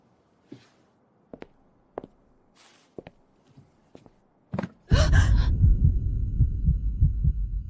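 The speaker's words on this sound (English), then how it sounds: "Everything stands still. Only the heartbeat roars." A heartbeat sound effect thumps in slow, separate beats, followed by a loud sustained roaring swell that fills the rest of the stretch.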